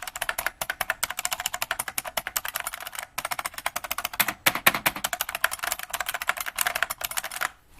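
Rapid, loud typing on a Unicomp Ultra Classic 103-key buckling spring keyboard, a dense stream of sharp clicky keystrokes with a few short pauses, heard alone.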